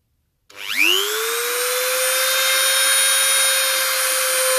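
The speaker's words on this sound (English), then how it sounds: "I'm going to drill a hole in the filler cap, which is plastic, so that should go through dead easy" A drill bores through a plastic oil filler cap on a BMW S1000RR motorcycle, starting abruptly and then holding a steady, loud high-pitched whine close by with no talk over it.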